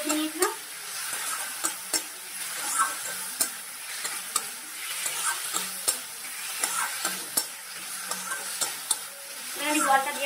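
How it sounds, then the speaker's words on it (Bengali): Potatoes fry with spices in a pan while being stirred, giving a soft, steady sizzle punctuated by sharp, rhythmic spatula scrapes and clacks close by. "এখানে আমি আলুটা দিয়ে মশলাটার সঙ্গে ভালো করে কষিয়ে নিচ্ছি।"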